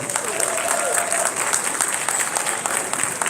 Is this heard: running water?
no